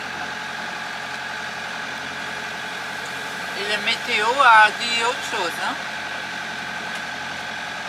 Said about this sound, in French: Et pas terrible, le moteur.